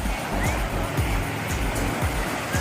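Ocean waves washing onto a beach in a continuous loud rush of surf, with repeated low thumps, close by.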